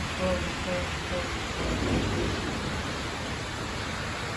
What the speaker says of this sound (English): Heavy duty rain.